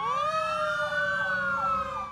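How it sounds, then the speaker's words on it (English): Loud police and fire sirens wail together, several overlapping rising and falling tones blaring continuously nearby. "The sirens blaring here this afternoon were a show of solidarity from police and firefighters"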